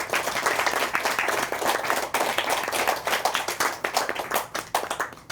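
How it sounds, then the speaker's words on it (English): An audience claps at a punk house poetry reading, dense and continuous hand clapping with sharp individual claps standing out as the applause thins near the end. "So a big round of applause for him."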